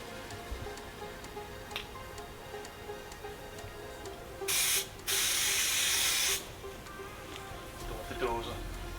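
Insecticide spray can sprayed at a large wasp nest in a workshop, two loud sustained hissing bursts of about half a second and a second and a half, with people talking around them.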